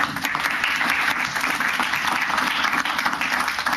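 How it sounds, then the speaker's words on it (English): Sustained, full applause from a press conference audience honoring panelists and a moderator, a dense wash of many hands clapping at close range without pause. "we could give an applause to our panelists and our moderator"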